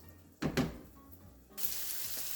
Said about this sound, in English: we are going to continue to cook this meat. until it is cooked all the way through